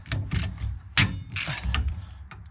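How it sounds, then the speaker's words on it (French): Screws loosened a quarter turn on an AX GT Superleggera, with several short metallic ratcheting clicks and creaks in quick bursts, close and moderately loud, no talking. "je vais desserrer d'un quart les vis"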